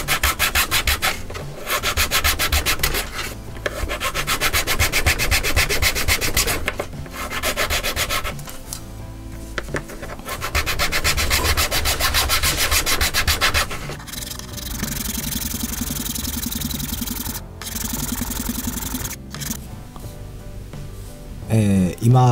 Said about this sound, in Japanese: カッティングマットの上に置いて、模型用のヤスリでね磨いていきたいと思います。